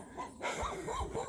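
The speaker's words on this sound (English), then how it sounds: "And my neighbor's dogs." A neighbor's dogs bark from next door to a front yard with blueberry bushes and cherry trees, a run of short barks and yips that carries on through the clip at moderate loudness.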